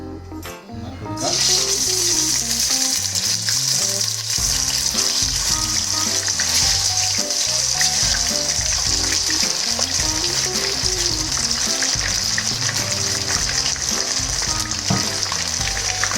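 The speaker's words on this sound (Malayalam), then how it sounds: "നമ്മൾ നമ്മുടെ കബാബ് ഇതിലേക്ക് ഇട്ട് വറുത്തെടുക്കാണ്ട് വരും കേട്ടോ" Raw jackfruit kebabs frying in hot oil on a high flame give a loud, steady sizzle that runs continuously, with a brief quieter moment at the start before the crackling fills the rest.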